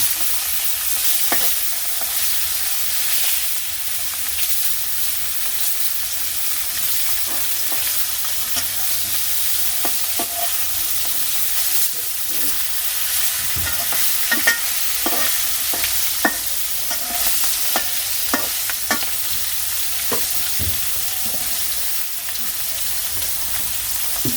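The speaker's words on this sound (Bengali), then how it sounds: "মাছ ভাজা হয়ে গেছে নামিয়ে নেব এখন" Fish fries in oil in a pan with a steady close sizzle, broken by repeated clicks and scrapes as it is stirred and turned, running throughout with no talk.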